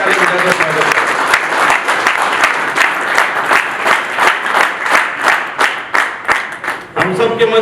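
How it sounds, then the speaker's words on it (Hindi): Loud, steady applause with many claps from a political gathering's audience welcoming a BJP leader to the stage, sustained for several seconds before tapering near the end. "एक बार राजेंद्र सिंह राठौर साहब के लिए जोरदार ताली बजाकर स्वागत है।"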